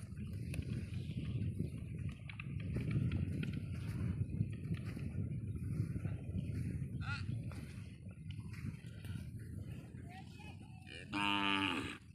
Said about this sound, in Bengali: দেখতেই পাচ্ছেন লাখ লাখ গরু নিয়ে এই চর।